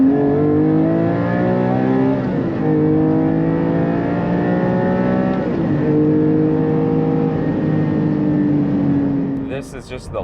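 A Porsche 718 GT4 engine pulls hard on the street, loud and close, its pitch climbing in long sweeps and dropping at each gearshift as it runs through the gears.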